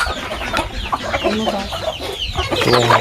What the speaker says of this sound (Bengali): মুরগি, ছাগলের বাচ্চা সব একসাথে খাবার খাচ্ছে।